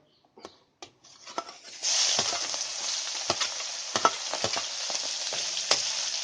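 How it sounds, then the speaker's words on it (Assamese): Potatoes, onion and fermented bamboo shoot hit hot oil and break into a loud, steady sizzle with scattered stirring clicks, close up, after a few brief knocks, no voices. "চব এতিয়া দি দিম, ভাজিম এতিয়া।"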